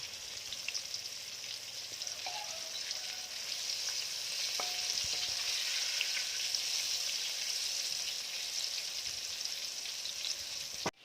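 Oyster mushrooms in crispy batter fry in hot oil, giving a steady hiss and crackle close by, with a few faint utensil taps and no talking.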